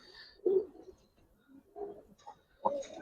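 A young Giribaz pigeon gives a few soft, low coos in short separated bursts, close and fairly quiet against a still background.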